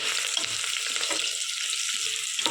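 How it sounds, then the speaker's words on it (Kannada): Curry leaves and chopped onion frying in hot oil make a short, soft crackling sizzle that holds fairly evenly throughout. "ಕರಿಬೇವು, 1 ಕಟ್ ಮಾಡಿರೋ ಈರುಳ್ಳಿ ಆಗೋವರೆಗೂ ಫ್ರೈ ಮಾಡ್ಕೋಬೇಕು"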